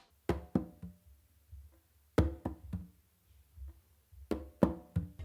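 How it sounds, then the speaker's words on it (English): Conga tapped with the non-dominant hand in a base-and-tip motion for a guaguanco exercise, soft muffled hits in small clusters with gaps between, close and fairly quiet. "what I do is like a base and a tip with my non-dominant hand on the conga"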